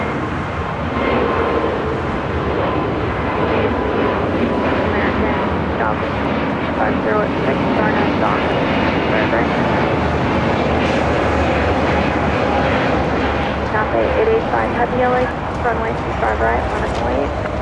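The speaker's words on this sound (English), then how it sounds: "the Korean Air A380 now rolling" A Korean Air A380 rolling for takeoff at LAX, a loud, continuous jet roar with broadband rumble and wind buffeting that holds steady throughout, while voices talk over it.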